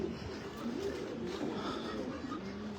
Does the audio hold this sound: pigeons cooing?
yes